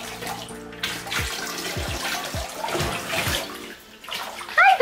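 Water running into a bathtub for a dog's bath at home, a continuous splashing pour with intermittent sloshing and a short squeak near the end, no talk.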